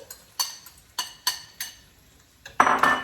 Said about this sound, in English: Now we're going to put our eggs in and get them scrambled.